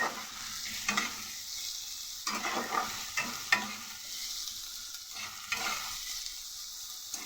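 Sliced onions with a pinch of salt fry on a high gas flame, giving a continuous close sizzle broken by repeated scraping stirs of a spatula against the pan.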